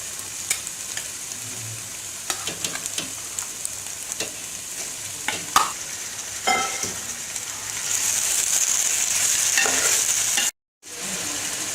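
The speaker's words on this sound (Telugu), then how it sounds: "ఉల్లిపాయలు బాగా వేగిన తరువాత చికెన్ కూడా వేసి వేయించుకోవాలి" Chicken frying with onions in a pan for a gongura chicken curry, a steady close sizzle with occasional stirring clatters and scrapes, swelling louder toward the end before a brief cut, no voices.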